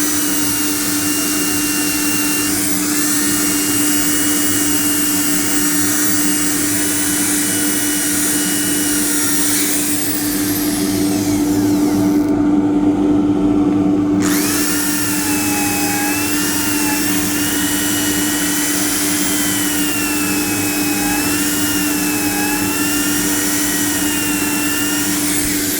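An angle drill whines steadily as it sands a wooden plate, its pitch wavering as pressure changes, with a short pause before the grinding resumes.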